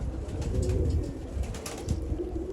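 Soft, repeated low cooing of a pigeon, close by, with a faint rustle underneath and no talking.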